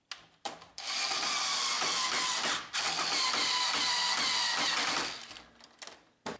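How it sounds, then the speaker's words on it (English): A power screwdriver drives a screw into a Brother MFC-L2700 series laser printer during reassembly, a close whirring buzz lasting a few seconds with a short pause, framed by plastic clicks and handling noise. "Insert the screw."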